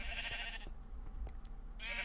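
Sheep bleat in the video game Magicraft on a small fenced sheep farm, several quiet, wavering bleats at the start and end with a softer one in between, heard alone without talk.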